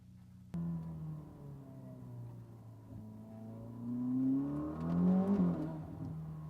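A 1,000 hp Ferrari SF90 accelerates hard from inside the cabin, its engine note rising in strong harmonic sweeps that swell louder toward the end before settling into a steady drone.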